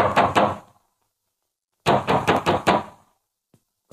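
Knuckles rap on a door in a 1944 Hindi film. A short burst of knocks is followed by a pause, then a second, longer string of five or six sharp raps, and one more knock comes at the end.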